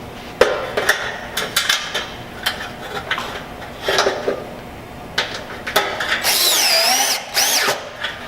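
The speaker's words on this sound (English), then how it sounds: "take your drill," A power drill drives 5/16 hex head screws into the metal legs of a pizza oven. Short, loud bursts of whirring repeat in an irregular rhythm, separated by clanks and taps, and one longer whine comes near the end.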